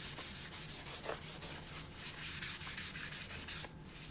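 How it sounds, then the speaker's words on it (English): A cloth rubs paint stain off a wooden board in steady, rapid back-and-forth strokes, a continuous close scrubbing rasp that keeps going without pause and without any voices. "just wipe it off right away"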